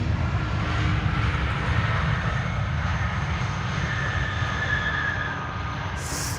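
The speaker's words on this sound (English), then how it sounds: "Come on, use the reversers." An airliner landing at Amsterdam Schiphol with thrust reversers, a low rumbling roar with a faint whine, heard from a distance and easing slightly toward the end.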